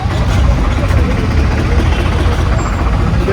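A 2020-model four-speed tractor idles close by, a loud, steady low rumble with an even mechanical drone and no change in pace.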